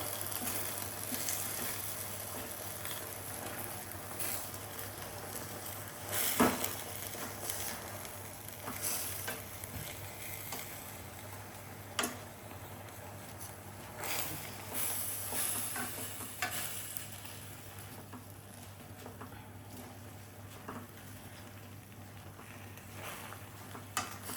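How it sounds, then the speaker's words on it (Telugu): Gongura chutney with fenugreek seeds sizzles softly in hot oil and gets stirred now and then, with occasional scrapes and taps of the spoon against the pan and no talking. "ఆయిల్ వేసి అటు రిపీట్ కలిపి తిప్పుకోవాలి"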